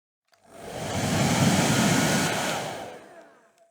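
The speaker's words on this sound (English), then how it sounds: "I pulled out the blow dryer and I made sure that the background was completely dry" A blow dryer runs on a watercolour cardinal bookmark painting to dry the background, giving a steady, close, loud rushing whoosh that builds, holds for about three seconds and fades.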